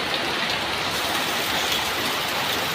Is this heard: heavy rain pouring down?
yes